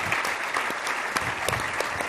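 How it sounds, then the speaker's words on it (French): A conference audience applauds to welcome a speaker onto the stage, a dense, steady patter of many hands clapping at once in a hall. "Vous pouvez l'applaudir."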